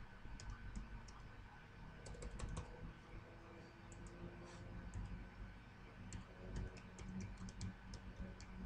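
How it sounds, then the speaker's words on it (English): Keys tapped on a computer keyboard while entering a Microsoft account login password on Windows, a steady run of light clicks in uneven bursts over a low background hum. "I'm going to type my login password for Microsoft account"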